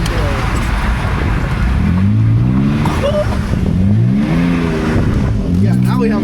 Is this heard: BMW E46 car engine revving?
yes